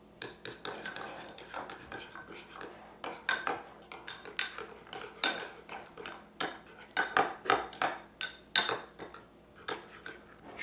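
Utensils clink and scrape against a bowl as dill seasoning from Germany is stirred through a salad, a steady run of close, bright metallic taps and rattles with no talking.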